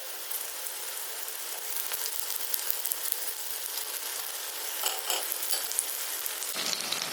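Banana paniyaram fry in a pan after being flipped, giving a steady, loud, close sizzle of hot oil that continues without a break and has a brief stirring scrape near the end.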